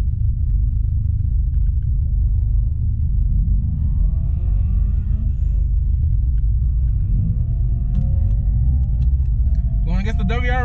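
9th-gen Honda Civic Si launching at a drag strip, heard from inside the car as a heavy, constant rumble with rising engine pitch. Voices talk over it throughout.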